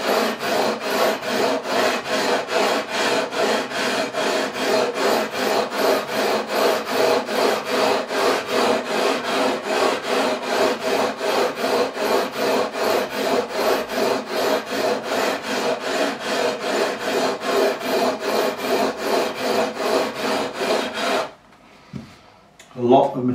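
Fender Standard Stratocaster frets being leveled with 240 grit emery cloth: a loud, close, rhythmic rasping of rapid back-and-forth strokes that runs steadily, then stops near the end.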